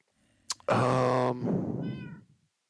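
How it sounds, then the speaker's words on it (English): A cat lets out one loud, drawn-out meow up close, followed by a shorter, softer trailing cry, with no talking. "So many cats."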